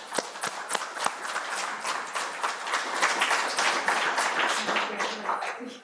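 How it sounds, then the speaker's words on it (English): Audience applause following presentations of STEM findings at a PlayLab event in Samoa, steady clapping of a modest crowd with a few sharper individual claps standing out, fairly close, lasting several seconds with faint voices mixed in. "I think they all deserve a big round of applause"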